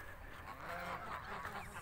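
Geese honking in a garden, a few soft, fairly distant calls over quiet background noise.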